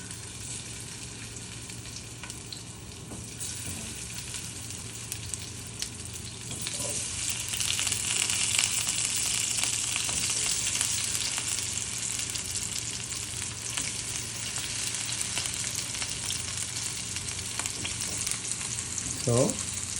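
Gobi batter sizzles and crackles in hot oil, a steady frying hiss that grows a bit louder partway through, heard close up with no talking.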